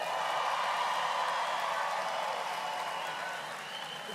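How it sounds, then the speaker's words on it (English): A graduation ceremony audience applauding, a broad continuous wash of many hands clapping at a distance, steady and then fading slightly toward the end. "let us acknowledge our families properly with a round of applause"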